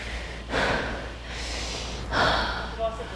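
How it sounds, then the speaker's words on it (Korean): Heavy, ragged breaths follow a rock-climbing effort, with two or three loud gasping exhalations close to the mic. "거친 숨소리."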